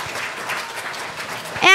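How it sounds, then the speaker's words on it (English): Brief burst of steady clapping from students in a middle school Easter chapel service, ending abruptly as a voice cuts in. "give him a round of applause"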